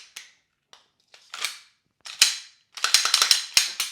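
Glock 17 pistol being reassembled, with a series of sharp metallic clicks and snaps: a few scattered clacks early on, then a rapid burst of close, loud mechanical clatter as parts slide and lock into place.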